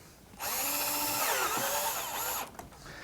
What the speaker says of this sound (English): now I'm going to take my drill here and run the top screw in